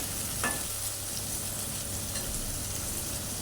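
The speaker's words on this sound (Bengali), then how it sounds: "এই যে পেঁয়াজ বেশি একটা ভাজি নেই, হালকা ভাজা দিলাম" Onions frying lightly in a pan for a beef liver curry, with a steady, close sizzle and a few soft stirring scrapes, no voices.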